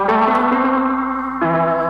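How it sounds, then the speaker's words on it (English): A free TAL delay plugin running in Bitwig sounds as a sustained, harmonically rich synth tone with repeating echoes, shifting pitch near the end, loud and alone. "that's a nice little delay unit"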